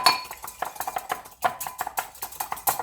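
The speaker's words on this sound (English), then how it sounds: "2 eggs, give them a whisk" Two eggs are whisked in a bowl, a quick, steady run of light clinking taps as the utensil strikes the sides, close and continuous.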